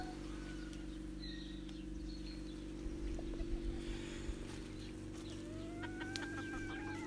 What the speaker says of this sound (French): c'est de laisser ce coq avec ces deux poules porcelaines